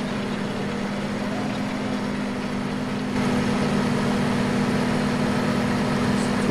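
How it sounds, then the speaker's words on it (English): Loud, steady tractor engine drone in a farming video game, a constant low hum that holds unbroken throughout with a slight step up in level midway. "this tractor is really loud."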